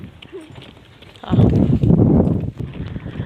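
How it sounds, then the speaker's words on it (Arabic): A ridden donkey's hooves clip-clop on a rural farm path, a quiet stretch followed by a louder run of close, rapid thudding steps that eases off again. "طلعت ركبت على الحمار"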